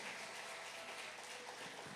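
A church congregation applauding, a steady wash of clapping from many hands at moderate distance, continuous and even throughout with no talk over it.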